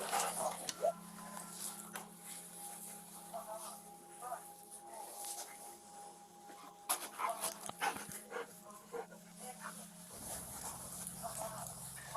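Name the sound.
dog panting and whimpering in a video game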